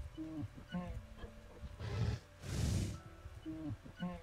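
Baby polar bear from Minecraft 1.10 making short growling roars, a few close bursts in a row with low rumbling calls between them.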